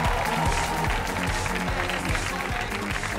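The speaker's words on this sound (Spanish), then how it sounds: "fuerte el aplauso" Studio audience at a live comedy show clapping loudly and steadily over rhythmic music, with a voice briefly heard over the clapping.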